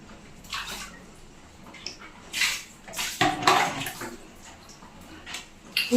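Water is poured and splashed during a first bath at home. The splashes come as irregular, fairly soft bursts over a quiet background, with no speech.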